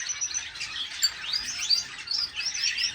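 Pet finches in an indoor bird room chirp and tweet constantly, with bright overlapping high calls forming a busy, continuous chatter, no voices.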